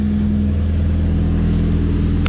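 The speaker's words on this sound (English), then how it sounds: "that's the sound you want your engine to make" A repaired station wagon engine running steadily after a blow-up, a loud, close, constant low rumble with strong harmonic drone and a slight rev swell, no talk over it.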